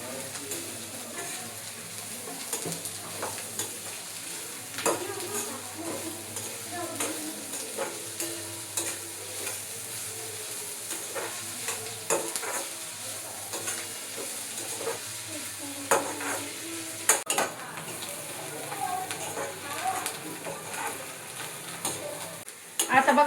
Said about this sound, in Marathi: आता आपण कांदा तळून घेऊ.